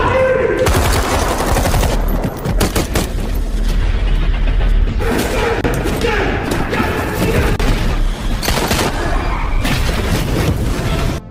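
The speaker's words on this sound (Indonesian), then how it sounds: "mereka dihadang oleh kelompok Jarod, hingga terjadilah aksi baku hantam dan baku tembak" Gunfight and fistfight in an action film about an American hitman against a Thai gangster group in a parking lot, with loud bursts of gunfire, thuds and impacts running densely throughout over a dramatic soundtrack.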